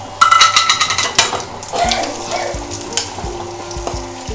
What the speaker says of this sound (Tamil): இப்போ கொஞ்சம் முந்திரி வறுபட்ட உடனே நம்ம பச்சை மிளகாய் சேர்த்துக்கலாம்